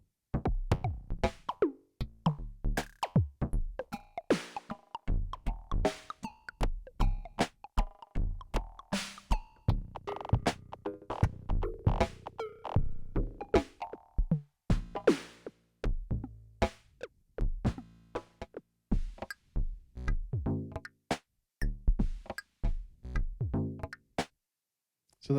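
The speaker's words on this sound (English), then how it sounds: "these are all effectively electronic percussive sounds" A long run of electronic percussive sounds from the Hammerhead 8x8s bank, dense rapid hits and thumps stepping through a program in a busy, steady stream, close and prominent with no speech.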